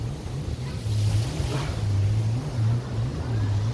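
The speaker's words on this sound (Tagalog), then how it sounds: "ang daming bangka po dito. Nagsisiksika na po. Hindi po magkasya lahat." Many boats crowd a dock after island hopping, engines droning low and pulsing in slow surges over wind and lapping water; no voices.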